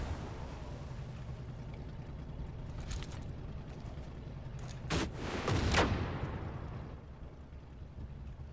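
Gunfire exchange in the video game Call of Duty Cold War, a few scattered shots under low rumbling ambience followed by a loud burst of fire and a booming blast that fades back to the steady background.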